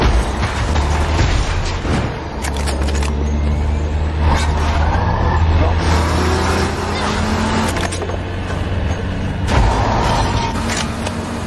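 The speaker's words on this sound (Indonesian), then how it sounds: "terdengarlah suara kendaraan tentara pemberontak" A rebel army vehicle approaches in the post-apocalyptic drama The Last of Us: a loud, steady low engine rumble with mechanical creaks and clanks running throughout, no voices.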